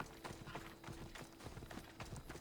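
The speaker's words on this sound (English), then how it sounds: "Come on, Horsey" Horse hooves clip-clop in a steady rapid rhythm in Assassin's Creed Odyssey, a galloping or trotting mount heard up close with a faint low hum underneath.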